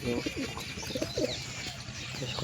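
Pigeons cooing and murmuring close by, including nesting birds with eggs, a steady low rolling chorus with a faint chirp here and there over a busy background hum.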